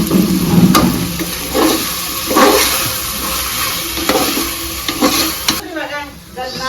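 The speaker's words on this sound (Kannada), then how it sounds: "ಹಾಕಿದ ಮೇಲೆ ಮೀಡಿಯಮ್ ಉರಿಲಿ ಅದನ್ನೆಲ್ಲ ನಿಧಾನಗತಿಯಲ್ಲಿ ತಿರ್ಸಿ" Coriander and mint are stirred slowly in a pan over a medium flame. A soft sizzle of frying runs throughout, broken by repeated scraping strokes of a spoon at a loose, roughly one-per-second rhythm, heard up close.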